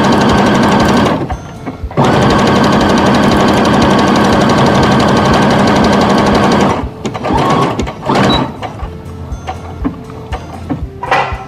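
A sewing machine stitches the seam of a chemo cap in long continuous runs, loud and close, with brief pauses and a few lighter bursts near the end.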